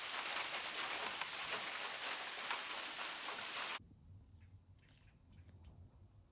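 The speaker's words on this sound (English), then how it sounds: "It's starting to rain now." Steady rain falling in the woods, a dense hiss of drops that stops abruptly partway through, leaving quiet background with a few faint bird calls.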